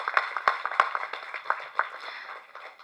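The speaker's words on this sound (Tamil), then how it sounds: "ஒரு பலத்த கைத்தட்டலுடன்." Scattered claps from an audience at a film press meet, with a few sharp, distinct hand claps near the start and then a thinner patter of clapping that fades.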